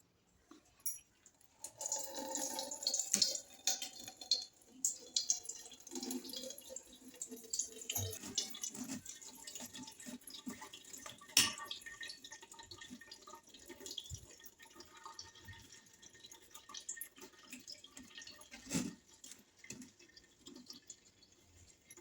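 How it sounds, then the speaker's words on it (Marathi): Wheat starch liquid dripping and trickling through a cloth strainer into a bowl, a steady wet patter with scattered louder drips over about twenty seconds, close and moderately quiet with no talking. "मग खालून ओढणीतून चीक पडतोय"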